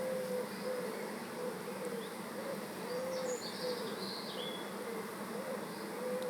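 Honey bees buzz in a nucleus hive, a steady dense drone with a few louder passes from individual bees close by and no talking.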